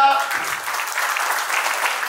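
Sustained applause from an audience at a school alumni reunion gathering, steady dense clapping throughout with a brief voice at the very start.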